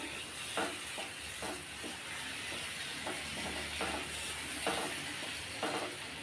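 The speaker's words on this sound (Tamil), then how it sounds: "எல்லாத்தையும் சேர்த்து நல்லா கலந்து விடணும்" A sweet aval (rice flake) mixture is stirred with ghee-roasted coconut, giving rhythmic scraping strokes about once a second against a steady hiss, close up and without speech.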